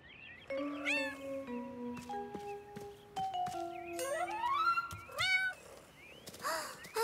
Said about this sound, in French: Un chaton!